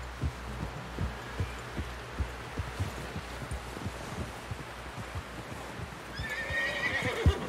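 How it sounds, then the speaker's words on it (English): A horse in a video game walks with steady, muffled hoofbeats in a regular clip-clop rhythm under a dense ambient bed, and a whinny rises near the end. "Someone help John down off this horse."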